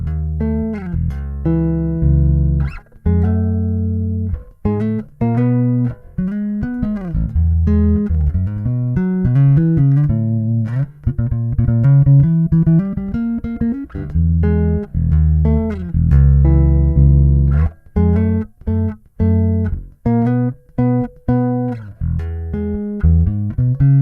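A Warwick Rockbass Adam Clayton signature bass guitar, played through a passive setup with the bass control turned fully up, sounds a steady run of solo bass-guitar notes and riffs with short pauses and a full, loud low end.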